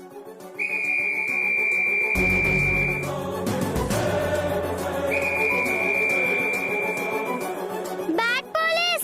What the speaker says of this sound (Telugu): నారాయణ సార్, విజిల్ సౌండ్ వినపడుతుంది కదా?